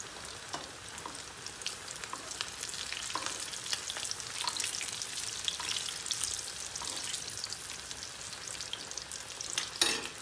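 Chicken pieces fry in hot oil in a pan, a continuous close sizzle and crackle with occasional sharper pops, and nobody speaks.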